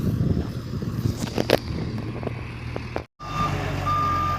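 A loaded truck at an outdoor loading site sounds a steady reversing beep over a continuous engine rumble and wind noise, fairly close, with a brief cut near the end.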